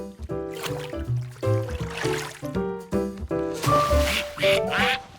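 Cartoon ducks quack repeatedly in a busy animated scene, short nasal calls overlapping with music and splashy effects, fairly loud and close throughout.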